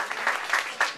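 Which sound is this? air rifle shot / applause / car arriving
applause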